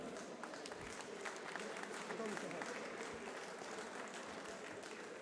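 Applause for a fighter introduced at a French cage-fighting gala, a steady wash of clapping from the crowd running the whole time, moderately distant, with some voices under it.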